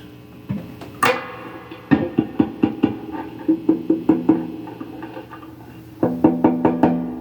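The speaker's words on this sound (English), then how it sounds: "That's my fingernail. It shouldn't make that much noise tapping on it." Fingernail taps on the resonant body of a cheap Glarry Tele-style electric guitar, a run of crisp, evenly spaced knocks with a brief ringing tone after each, and a short pause midway.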